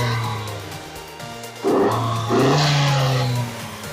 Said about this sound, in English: Oh, you can even hear the blow-off valve.